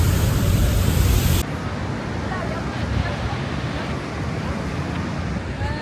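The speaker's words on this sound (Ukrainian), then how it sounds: "зараз знаходимося під Ніагарським водоспадом." A constant, heavy roar of falling water beneath Niagara Falls fills the air, loud and broadband, with wind buffeting the microphone.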